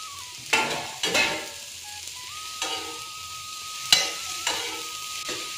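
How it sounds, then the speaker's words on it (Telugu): Egg frying on a tawa pan, soft sizzling with several sharp scraping stirs of a spatula at irregular intervals, close and moderately quiet, with no talking. "ఇంక ఎగ్ ప్యాన్ ఫ్రై అయితే రెడీ అయిపోయిందండి"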